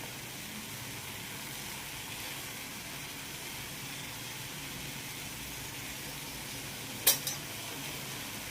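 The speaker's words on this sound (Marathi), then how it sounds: "आणि पुन्हा एकदा हे मी सगळं परतून घेते" Vegetables sautéed with turmeric, black masala, garam masala and salt in a pan, a steady soft sizzle throughout, with a brief clink of a spoon against the pan near the end.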